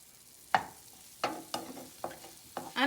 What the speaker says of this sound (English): First of all, we're gonna add our garlic and pepper. We're gonna give this a mix.